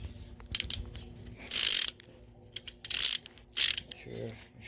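A ratchet wrench with a 22 mm socket tightens a bolt on a 2011 Toyota Camry during engine reassembly, giving three or four bursts of rapid clicking separated by short pauses, close and fairly loud.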